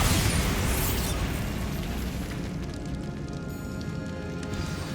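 A Bombarda blasting spell erupts in the Hogwarts Legacy game, opening with a loud, bright burst that decays into a sustained rumbling, crackling wash of debris over the rest of the five seconds.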